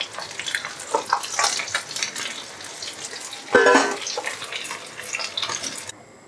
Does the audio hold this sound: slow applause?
no